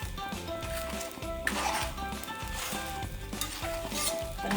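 Wheat dosa sizzles gently on a pan over a medium flame, a soft continuous frying hiss with a few light metallic scrapes and clinks, close and fairly quiet.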